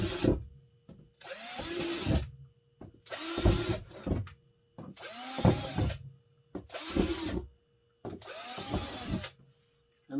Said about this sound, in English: Get your drill, use a small bit so that way worms won't escape from the bottom of out of your bin, and drill a few holes